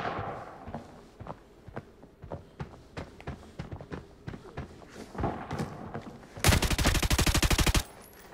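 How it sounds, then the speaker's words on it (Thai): Gunfire in the video game Arena Breakout, a run of sharp single shots in uneven rhythm, then a loud, rapid automatic burst lasting over a second near the end. "ใครยิงข้างนอกไม่รู"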